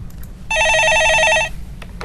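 A telephone rings once in a loud, trilling electronic burst lasting about a second, signalling an incoming caller on a Korean stock-market radio call-in show, with quiet studio background before and after.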